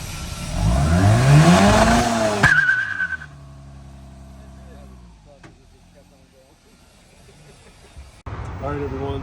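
Turbo LSX-swapped widebody Mazda RX8 with nitrous and an automatic transmission, engine revving loudly up toward 7,200 RPM for a neutral drop, a rising harmonic whine that peaks and cuts off abruptly, followed by quieter idle and background talk.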